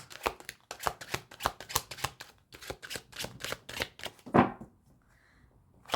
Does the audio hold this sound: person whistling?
no